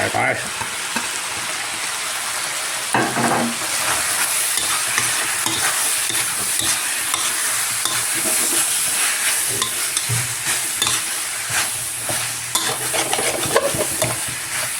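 Spicy wild boar stir-fried in a pan with eggplant, basil and kaffir lime leaves, a loud continuous sizzle broken by repeated scraping and clattering of the spatula against the pan.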